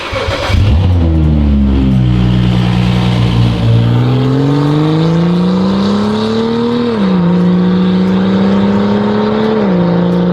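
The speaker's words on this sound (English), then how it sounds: "This is Dustin's current cold start" A loud, raspy car exhaust with the muffler removed drones at a cold-start idle, rising and dipping in pitch with a couple of small revs, unmuffled and close.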